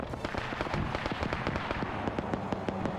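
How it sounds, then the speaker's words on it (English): Rapid bursts of gunfire from UK fighter planes strafing ground vehicles in a WW2 multiplayer game, a dense crackling rattle of many sharp reports running continuously at steady loudness, with no talk over it. "So you've got some of the UK fighters starting to strafe the vehicles here."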